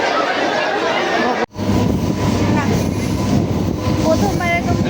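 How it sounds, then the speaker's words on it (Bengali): A train pulls into a station platform on the way from Digha toward Kolkata, giving a steady rumble and rolling rail noise with a brief dip, while a crowd chatters nearby and a voice talks over it. "তো আমাদের ট্রেন ঢুকে গেছে, আমাদের ট্রেন ঢুকে গেছে গাইস।"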